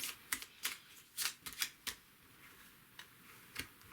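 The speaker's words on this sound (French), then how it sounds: "On va prendre ces trois cartes là" Tarot cards shuffled and drawn from the deck, giving a string of crisp, close riffles and snaps, a few quick bursts with short gaps, quiet and with no voices.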